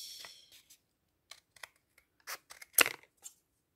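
Scissors snipping around a traced circle, likely in paper or card, giving a few scattered, quiet cuts with short pauses between them, one crisper snip near the end.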